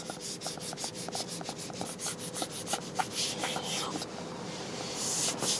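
Someone scrubs a car seat with foaming upholstery cleaner in quick, rhythmic strokes that rasp and rub against the fabric. The sound is close and even, and grows slightly more vigorous toward the end.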